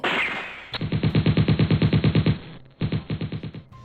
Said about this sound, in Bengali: সঙ্গে সঙ্গে চলল রিভলভারের গুলি বৃষ্টি।